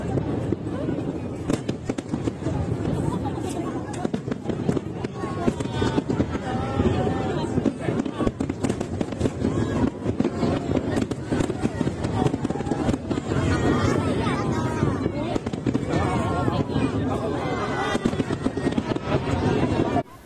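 A fireworks display at the Mid-Autumn Festival in Hong Kong, with a dense run of bangs, crackles and pops and a murmuring crowd and voices talking underneath throughout.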